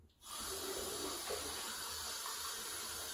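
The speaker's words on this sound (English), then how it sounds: "so now I'm going to put the water in it." Hot water pours into baby bottles, starting abruptly after a moment of quiet and then running as a steady, close gush until the end.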